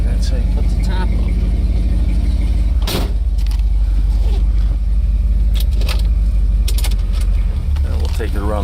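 A 1969 Ford XL Galaxie convertible with a 360-horsepower engine runs steadily up close, a loud continuous low rumble with mechanical clicks and brief rattles over it.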